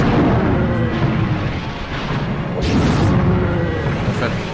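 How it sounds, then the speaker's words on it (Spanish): Repeated booming cannon shots in the PS1 game Medievil's El Asilo level, several blasts spaced a second or so apart over steady rumbling in-game noise. "Hay dos cañones ahí en el nivel que nos lanzan cañonazos"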